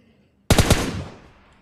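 A single loud, close burst of about three gunshots in the PUBG Mobile Lite battle royale game, rising out of near silence and trailing off in a decaying echo.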